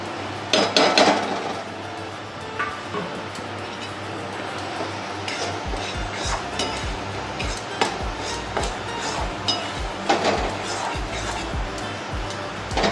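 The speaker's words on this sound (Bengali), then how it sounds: "আমি শুকনো খোলায় বেসনটা একটু নেড়ে দিচ্ছি, যাতে বেসনের কাঁচা গন্ধটা না থাকে।" Dry gram flour (besan) being stirred in a small kadai over a gas flame, giving irregular close metallic scrapes and taps of a spoon against the pan that come and go throughout.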